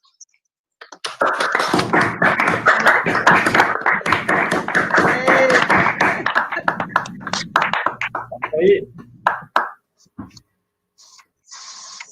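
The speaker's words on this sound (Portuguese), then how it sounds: "Uma salva de palmas para os novos profissionais." At a graduation ceremony in Rio do Sul, the crowd gives the new graduates a burst of crisp, nearby clapping that runs for several seconds, then thins into scattered claps and dies away.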